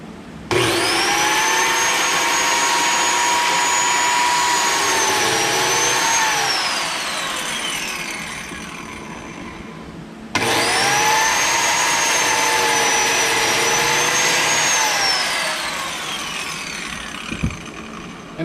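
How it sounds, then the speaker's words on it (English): A DeWalt biscuit joiner cuts biscuit slots into a wooden board, its motor whining loud and steady for several seconds per cut, then winding down; two cuts in a row, each starting abruptly. "I'm going to cut the biscuit holes"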